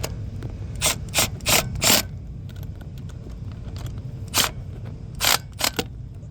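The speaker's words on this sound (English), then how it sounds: "Just a simple basic impact with a 9/16 bit. And we're gonna go ahead and torque these things down nice and easy." An impact driver with a 9/16 bit snugs nuts down in a star pattern, giving four quick, sharp rattling bursts and then three more after a pause, close and distinct over a low background rumble.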